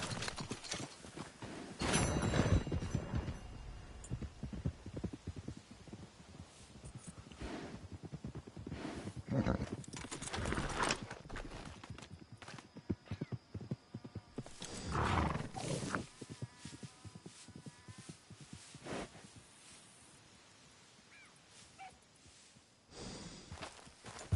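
Horse hooves clip-clop in Red Dead Redemption 2, with uneven bursts of hoofbeats and rustling movement mixed with game sounds and quieter stretches, and no talk.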